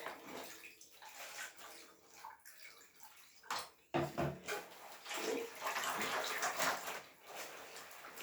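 Dye solution is tipped out over fabric in a container, a soft sloshing pour with splashes and gurgles that swell and fade over several seconds, close by and without speech.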